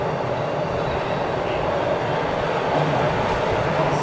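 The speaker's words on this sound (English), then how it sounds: "There's another train coming in on our side." A Toronto TTC subway train pulls into the station platform with a loud, steady rumble and rolling wheel noise that fills the whole stretch.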